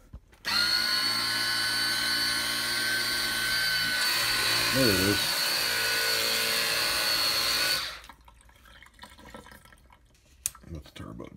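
A Hart 20V portable pressurized vehicle cleaner on its rinse setting sprays water with a loud, steady motorized hiss that runs about seven seconds and then cuts off abruptly, with a person talking briefly.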